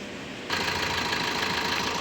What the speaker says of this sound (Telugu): ఇంజన్ సౌండ్ కూడా చాలా నీట్గా ఉంది